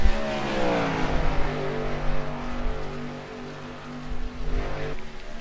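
Stock car engines racing on the Auto Club Fontana oval in iRacing, a loud continuous roar from several cars with overlapping engine tones and a brief surge near the end.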